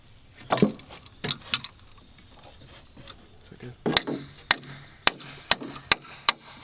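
Metal parts of a trebuchet are struck with a hammer: scattered clanging blows at first, then a run of sharp, ringing strikes at a steady pace, close and loud, with some voices in the background.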